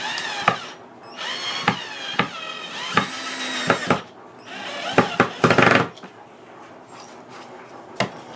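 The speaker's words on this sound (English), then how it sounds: "when you're drilling the holes, when you're putting your screws in, you want to do it nice and slow" Close-up power drill driving screws slowly into wood for a raised garden bed, whirring in short bursts, starting and stopping repeatedly, with sharp knocks and clicks between runs.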